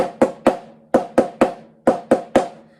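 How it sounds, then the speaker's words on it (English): Crisp drum strokes in groups, each main hit preceded closely by two quick soft grace notes, forming a tight repeating drag rhythm. "I'm playing the drag, the 2 grace notes, quite close to the main note"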